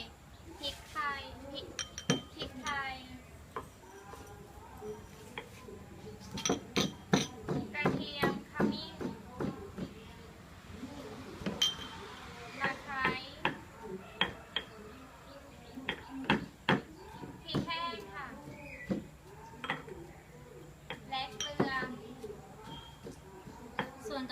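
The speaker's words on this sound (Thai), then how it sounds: "เรามาเริ่มตำเครื่องแกงกันเลยนะคะ" Thai curry paste for a Phatthalung-style spicy pork rib curry pounded in a mortar, sharp repeated thuds and clinks coming in irregular bursts, close and fairly loud, with children's voices and kitchen clatter in the background.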